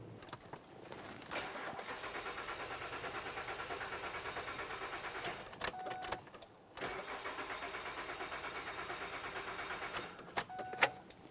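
A 2006-2012 Ford Fusion engine cranks and catches, runs steadily for a few seconds, then cuts out with no fuel pressure, and repeats the start-and-stall cycle once more, close by, with brief clicks between attempts.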